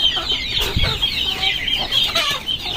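A chicken clucks close by in short, repeated bursts, with steady outdoor background noise underneath.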